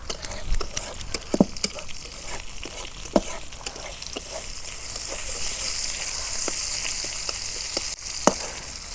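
Bottle gourd cooks in a pan at home, giving a steady, close sizzle with scattered crackles and pops and no talking.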